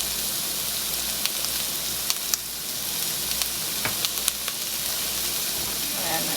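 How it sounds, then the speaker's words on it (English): Chopped onion and carrots with salt and pepper sizzle and fry steadily in a pan for a turkey ragu, a constant dense hiss with a few faint clicks of stirring and no talk. "Now I'm going to cook this until the onions start to get a little bit soft."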